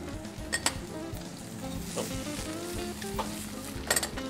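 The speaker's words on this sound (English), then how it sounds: "See, like this, we're gonna add a little butter now." Butter melting into hot oil in a pan with mahimahi, a continuous moderate sizzle with a few clinks of utensil against the pan near the start and end.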